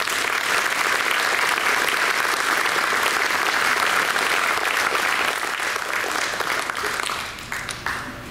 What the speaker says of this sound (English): Please give a Ranger round of applause to the 2024 Outstanding Graduate in the Business Professional category, Jeff Allen.